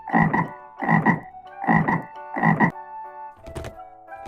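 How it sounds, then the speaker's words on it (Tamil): A frog croaks in four evenly spaced, loud, rasping bursts close to the listener, over soft sustained musical tones, then a brief sharp click. "தவளை"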